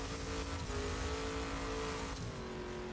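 Cars driving in the racing video game The Crew, a sustained engine drone with rising and shifting revs and a faint whine, steady and fairly quiet, no talk over it.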